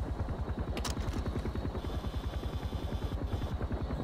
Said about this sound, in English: Is there a helicopter?